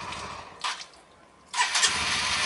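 A Honda CBR150i motorcycle engine starts by remote alarm: a short cranking burst, a pause, then a second crank that catches into a steady idle, heard close and alone.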